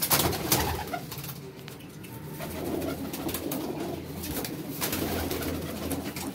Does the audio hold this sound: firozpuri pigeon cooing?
yes